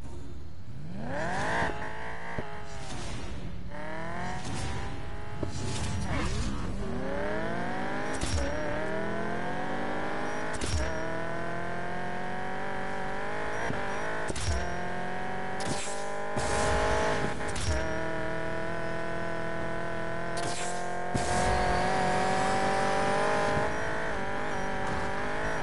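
Race cars in Need for Speed Payback roaring through a short track, engines revving and shifting up with rising pitch, tire squeals and brief skids, loud and continuous throughout.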